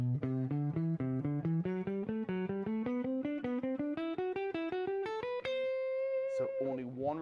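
Fast shred run on electric guitar, rising steadily in pitch, with a single repetition on the lowest string and two repetitions on every other string; many quick, even, distorted notes, loud and alone, ending on a sustained high note.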